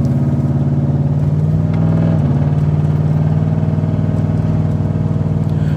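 Steady low idle from a Nissan Titan truck engine, close and continuous, with a faint rhythmic pulse and a slight dip in pitch midway, no voices over it.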